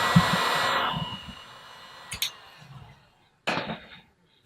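Steady whooshing blow of a heat gun shrinking a battery wrap, fairly close, cutting off after about a second, followed by a couple of small clicks and a brief second burst of airflow.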